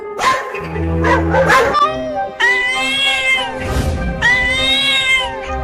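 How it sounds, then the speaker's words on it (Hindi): Cartoon cats meow repeatedly in drawn-out, whining cries, mixed with bursts of dogs barking in front of a wooden house, all fairly loud and close, with the cries layered over one another. "वो कुत्ते उस लकड़ी के घर के सामने भौंक रहे हैं"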